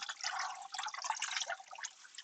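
Water splashing and trickling as dyed fabric is rinsed to wash out soda ash, a steady close wet sloshing with small drips throughout.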